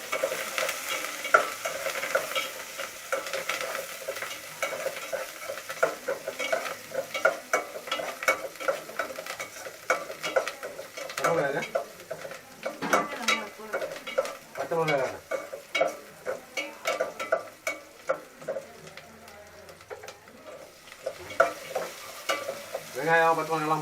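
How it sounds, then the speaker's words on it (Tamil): Onion and green chillies stir-fried in a pan, continuous sizzling with frequent scraping and clattering of a spatula, loud and close throughout, no talking. "வெங்காயம் பச்சை மிளகாய் எல்லாம் போட்டு வதக்காச்சு"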